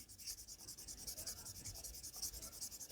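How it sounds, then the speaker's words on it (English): A vintage windshield being sanded by hand, producing a soft, rhythmic back-and-forth rubbing rasp in quick regular strokes, close and fairly quiet with no talk. "Sand it down a little bit more and dry it off"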